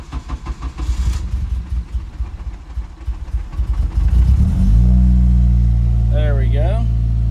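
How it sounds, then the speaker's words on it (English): A Honda K-series engine running on E85 cold-starts after two weeks sitting: the starter cranks rhythmically for several seconds, then the engine catches and settles into a loud, steady rough idle, with brief talk heard during cranking. "We're gonna give this thing a cold start. It's been about 2 weeks, so it's on E85."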